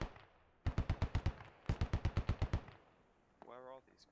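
Distant gunfire in the military shooter Squad, two sharp bursts of about six and eight evenly spaced shots, crisp against quiet surroundings, followed by a brief spoken voice.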